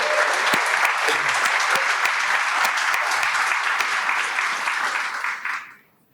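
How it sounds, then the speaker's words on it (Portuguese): Audience at a book launch for a work on public security claps in a loud, dense burst of applause that holds steady for about five seconds, then fades quickly into silence. "Uma salva de palmas para o Chico."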